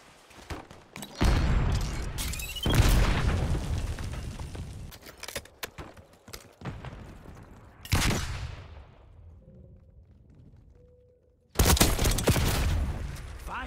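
Frag grenade blasts and heavy gunfire in a hardcore Call of Duty Black Ops 6 match: loud bursts of sustained shooting and booming explosions separated by quieter gaps, with one final roaring volley.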